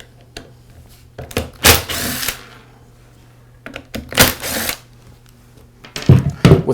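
Screws being backed out of the black pad housing of a Porter Cable sander, heard as three short, close bursts of whirring, rattling tool noise separated by quiet pauses.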